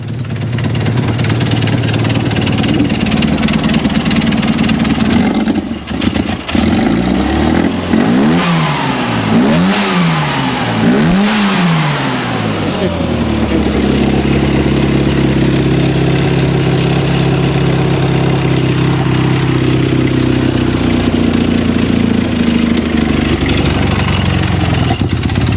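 A 1972 Mini race car with a 1380 engine and straight-cut gears starts, then revs hard several times in rising and falling sweeps before settling into a loud, lumpy idle, all close by.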